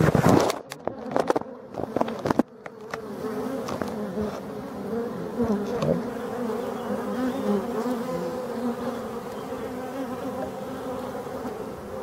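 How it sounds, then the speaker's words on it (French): Dense, continuous buzzing of forest black honeybees and drones swarming at the hive, a steady close hum after a few sharp knocks at the start. "les abeilles de la forêt, on voit qu'elles sortent une nappe de bourdon là"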